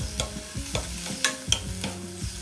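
Fried rice with alugbati greens and other vegetables stirred in a pan, a spatula scraping and clinking in a few distinct strokes with faint sizzling beneath, close and fairly quiet, no talking.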